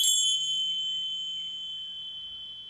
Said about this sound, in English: I'll bring us out with these beautiful tingshas,